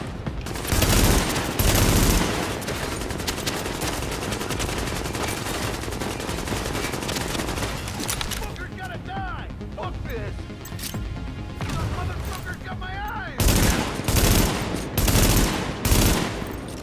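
Sustained automatic gunfire in Tom Clancy's The Division, with dense bursts opening and closing the passage and a quieter stretch in the middle where faint voices talk under scattered shots.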